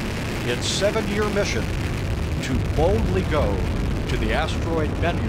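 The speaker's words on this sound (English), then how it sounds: "What you're hearing is audio from a launch that took place on September 8th, 2016" The OSIRIS-REx rocket lifts off at its September 2016 launch with a deep, continuous rumbling roar beneath an announcer's narration.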